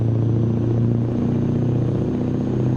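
Racing video game car engine with mods, a steady loud droning hum with layered tonal harmonics, running continuously on its own throughout.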